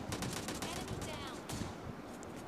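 Loud shotgun blasts in a battle-royale shooter video game, dense sharp bursts fired in quick succession close up, filling the short moment.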